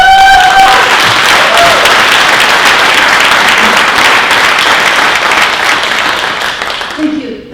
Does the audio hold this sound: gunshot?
no